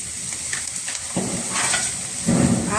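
Onion with ginger garlic paste sizzles in hot oil while cooking a hotel-style paneer gravy, a close, steady frying hiss with occasional louder bursts as the pan is stirred.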